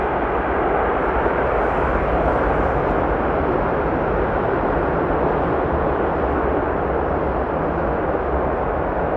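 An airliner landing at Amsterdam Schiphol runs its thrust reversers, making a loud, constant, dense roar heavy in low rumble, close and unbroken throughout, with no talking.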